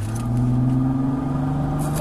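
A Ford Sport Trac with a cold air intake holds a steady engine rev with a continuous droning hum, while someone talks over it.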